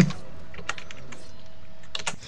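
Computer keyboard typing close by: quick, uneven bursts of crisp key clicks that start and stop over a couple of seconds, with no voices.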